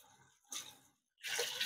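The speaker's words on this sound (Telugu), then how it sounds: "ఒక చెంబుతో నీళ్ళు వేసా." Water is poured from a small metal vessel into a cooking pot of gravy, two separate splashing pours with a brief pause between them, close and clear.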